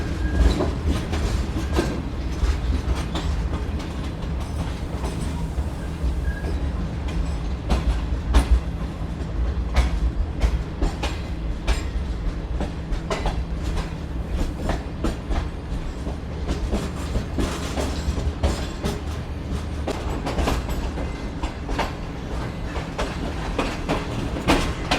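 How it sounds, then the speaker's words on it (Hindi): The Sukkur Express 5111, bound for Jacobabad, rolls along the rails with a loud, steady rumble and a continuous rhythmic clickety-clack of wheels over rail joints, heard up close throughout. "और ये दोस्तों सखर एक्सप्रेस 5111 के साथ जो है जैकबाबाद रवाना हो रही है।"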